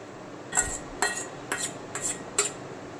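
Metal utensils scrape and clink against a plate as food is moved onto it, five light, evenly spaced taps over a quiet background with no talking.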